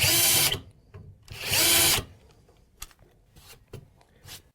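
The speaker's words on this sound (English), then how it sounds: "Carefully position the center drill bit and drill the holes." A power drill fitted with a center drill bit bores holes through a drilling jig while assembling a front locking device: two loud whirring bursts, then quieter clicks and tool handling.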